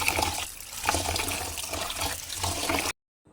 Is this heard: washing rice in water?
yes